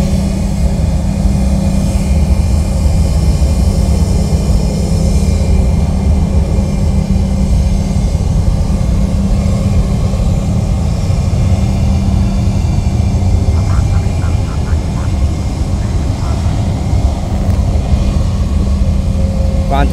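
An aircraft at Fort Lauderdale-Hollywood International Airport, a loud continuous engine roar with a steady drone and tonal hum that holds for the whole stretch, fairly close and unbroken.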